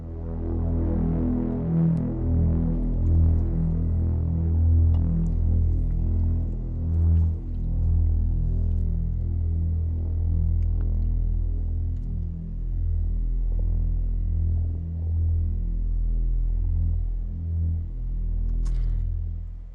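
Detuned synthesizer strings hold a low, thick sustained chord with a slow throbbing wobble, playing alone and steady throughout.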